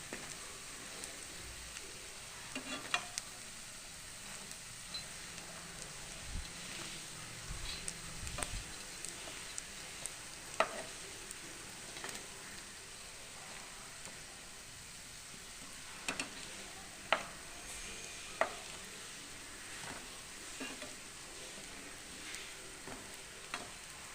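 Poha balls fry slowly in oil with a faint, steady bubbling sizzle, broken by occasional light taps and stirs of a spoon across a long, even stretch with no voices.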